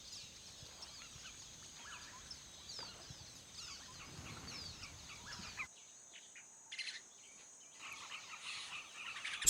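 Flock of red-billed quelea calling in a national park: dense, continuous high chirping and twittering from many small birds, moderately distant, with insect-like buzzing mixed in and a brief quieter gap midway.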